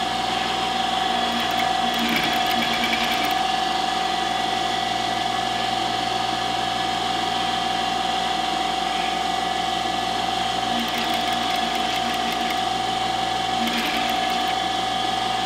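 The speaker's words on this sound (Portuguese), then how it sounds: "Vamos costurar aqui nessa beiradinha." A sewing machine stitches along the edge of a round fabric Christmas placemat, giving a fast, steady mechanical whir with a high hum that runs continuously up close.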